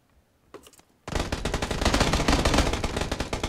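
Rapid automatic gunfire in the battle royale game PUBG, with a couple of isolated shots first and then a loud, sustained burst of close fire that continues to the end.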